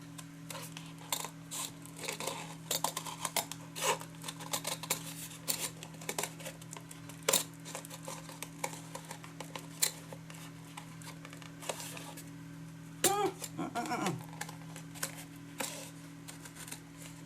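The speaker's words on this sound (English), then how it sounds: "if these Tim Holtz scissors don't work, nothing will" Tim Holtz scissors snip through strong, heavy paper in a run of quick crisp cuts and rustling close up, over a steady low hum, with a brief crinkling sound near the end.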